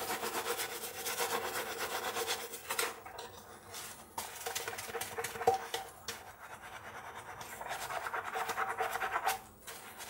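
Someone steadily scrubs and rubs the outside of a beer brewing vessel, making a continuous close scratchy scouring with brief pauses between strokes.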